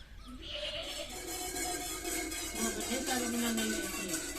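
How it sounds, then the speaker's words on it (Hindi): A goat kid kept at home bleats repeatedly, close and clear, with a drawn-out cry near the end, amid steady farmyard background noise. "जब आपको ये बकरी की आवाज आ रही है ना"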